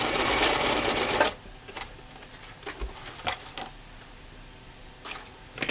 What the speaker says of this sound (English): I reached the end, so I'm going to back stitch.